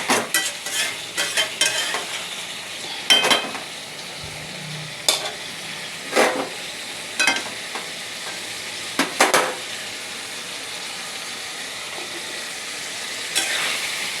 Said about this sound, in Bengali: গল্প করতে করতে আপনাদের সাথে আমার এঁচোড়ের মশলাটা বেশ কষেও গেল, তেল বেরিয়ে গেছে